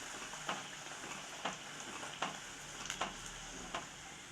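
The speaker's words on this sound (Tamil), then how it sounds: "நம்ம பூரியை பொரிச்சு எடுத்துக்கலாம். நல்லா கரண்டி விட்டு இப்படி நல்லா ப்ரெஸ் பண்ணுங்க." Puri deep-frying in hot oil, a quiet continuous sizzle broken by soft regular pulses as a ladle presses the dough down, with no talk.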